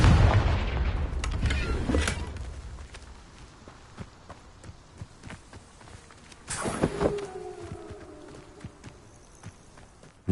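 A Confringo blasting spell going off in a Harry Potter video game: a heavy burst opens and fades, then a second sharp blast later rings out with a lingering tonal tail, amid scattered footstep-like thuds.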